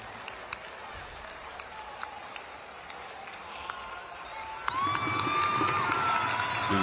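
A crowd at an American football game between the Prague Lions and Raiders Tirol claps and cheers at a distance, the noise swelling louder partway through, with a commentator talking over it.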